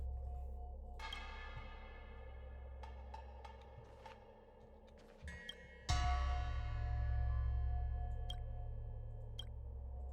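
An old bell in the video game Honkai: Star Rail rings out in two clear struck tones with long shimmering decays, separated by a few faint clicks and a low background hum.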